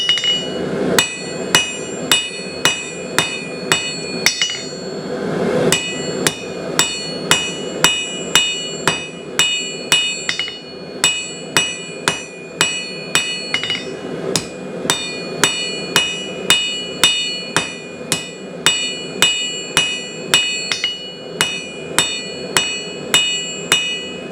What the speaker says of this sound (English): I'm hitting half blows. Half on the anvil and half off the anvil.